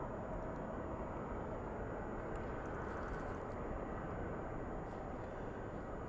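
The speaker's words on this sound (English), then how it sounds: "That 747 was flying nice and heavy, almost using the entire length" A heavy Boeing 747 takes off at Anchorage airport in freezing weather, heard as a steady, loud, broadband engine roar that fills the clip without letting up, with no voices.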